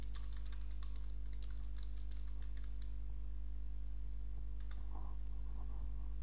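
Computer keyboard typing a prompt into a chat interface, a steady run of soft close clicks alone over a constant low electrical hum.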